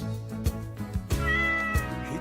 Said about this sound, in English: I like the part where it says meow too.